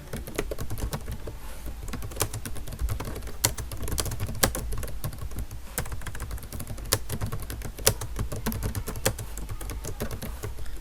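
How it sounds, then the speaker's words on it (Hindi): Someone types fast on a computer keyboard during a TypingMaster speed test. The key clicks are steady, close and continuous, with no voices. "इसके बाद जो है टाइपिंग करता हूँ मैं अभी"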